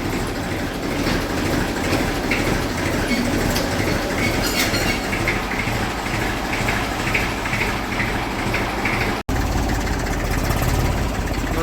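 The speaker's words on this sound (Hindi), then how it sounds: "दोस्तों बैक कर लेते हैं पीछे ट्रैक्टर।" A reversing tractor's heavy engine rumbles steadily with a rattling, clanking drone throughout, loud and close, with a brief cut near the end.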